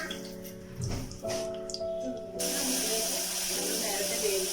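Fenugreek seeds dropped into hot sesame oil with mustard seeds for papaya pickle erupt into a loud, steady sizzling hiss midway through, following a brief voice and some kitchen clatter.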